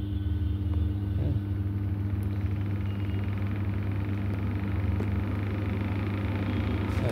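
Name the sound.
PRP centrifuge machine spinning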